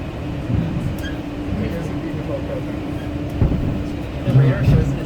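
Train #9013 hums and rumbles as it rolls from Jamaica toward Grand Central, a low steady rolling noise with faint clanks, partly under people talking.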